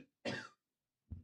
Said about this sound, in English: I'm so sick of this cough